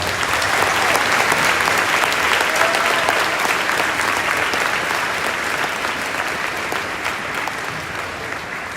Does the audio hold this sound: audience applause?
yes